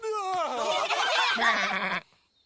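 A cartoon sheep bleats in a long wavering, shaky call, loud and close, then cuts off abruptly into silence.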